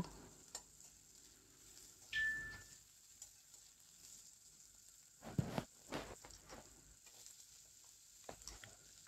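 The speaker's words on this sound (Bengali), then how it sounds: "দিয়ে দেওয়ার পরে একটুখানি ভালো করে ভেজে নেব। একটু লাল লাল হওয়া পর্যন্ত আমি এটাকে সমানে নেড়ে যাব।" Sliced onions fry in oil as a faint sizzle, with a few louder scrapes and clatters of a spatula as they are stirred in the pan. No one speaks.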